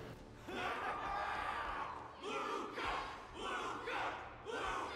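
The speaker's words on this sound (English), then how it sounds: "Everyone's cheering for you, Luka." Loud, rolling crowd roar of cheering and battle cries from the in-game audience in Honkai: Star Rail, rising in several surges as voices shout together.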